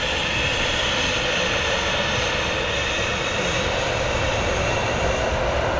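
A Ryanair airliner arrives at Manchester Airport, a loud, steady roar of engines that stays constant throughout with no break.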